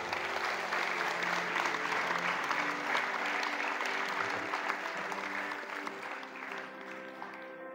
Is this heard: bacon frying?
no